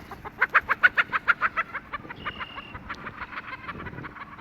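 Chickens clucking close by, a quick run of loud rhythmic clucks that slows and fades into softer scattered clucks and yard noise, with a cat chasing a chicken.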